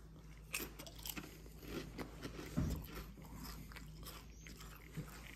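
Quest nacho cheese protein chips being crunched in the mouth, a faint, close series of dry cracker-like bites and chews at an irregular pace, with no talking.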